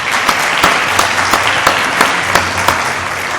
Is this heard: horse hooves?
no